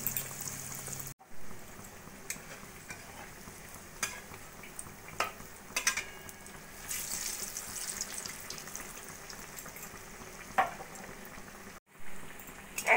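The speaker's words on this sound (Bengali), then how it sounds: "ভালো করে বেসনের ব্যাটারে চুবিয়ে ভেজে নেব এইভাবে।" Bread pakora dipped in gram flour batter fries in hot oil, a soft continuous sizzle broken by occasional clinks and stirring scrapes, close and fairly quiet.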